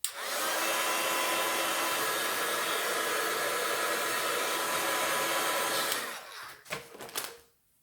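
A hair dryer blows steadily at close range for about six seconds to dry white paint on an art journal page, then cuts off, leaving a few brief handling knocks.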